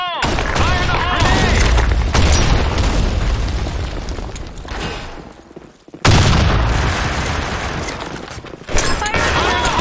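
Grenade blasts and gunfire in the online shooter Blackshot, loud booming bursts filling most of the stretch, a brief dip near the middle, then a sharp new explosion and continued rumbling battle noise with game voice callouts over it.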